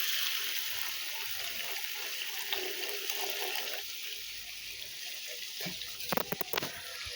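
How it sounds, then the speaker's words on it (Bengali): Water gushes steadily into a cooking pot of braised quail meat, a continuous pouring rush ending in a few clinks and splashes near the end. "এখন একটু পানি দিয়ে দেব।"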